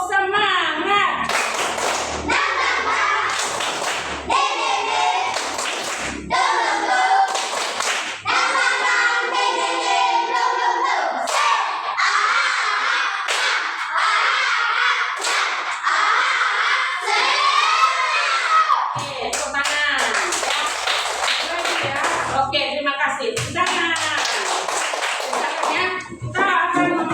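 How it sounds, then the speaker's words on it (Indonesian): Classroom group does a rhythmic clapping routine, tepuk semangat, bursts of patterned claps alternating with pauses, loud and close, with children's chanting voices over much of it. "Tepuk semangat."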